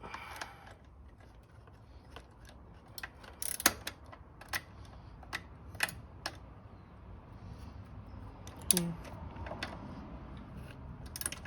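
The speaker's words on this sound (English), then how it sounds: "So I just turned the nut only, and I'm just holding the bolt still." A nut being turned on a bolt while fitting Ohlins suspension to a Triumph Speed Twin motorcycle, heard as sparse, faint metallic ticks and clicks at irregular intervals over a quiet background, with no talk.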